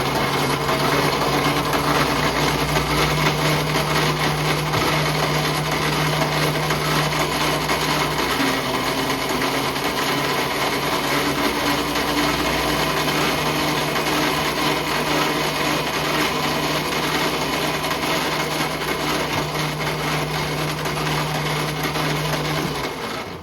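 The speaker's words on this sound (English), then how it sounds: "Just facing a little bit off." A metal lathe facing a part runs with a continuous steady machine hum and cutting noise, a low drone shifting pitch partway through, close and loud throughout with no talk.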